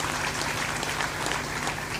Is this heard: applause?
yes